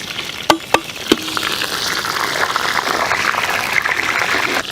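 Whole spices, including cinnamon, cloves, cardamom, star anise and fennel, crackle in hot coconut oil with a steady close sizzle, opened by a few sharp knocks and pops before the frying settles into an even hiss.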